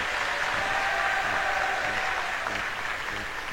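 Students at a school literary association inauguration clap together in a steady, even round of applause that fills the room and holds at a moderate level throughout.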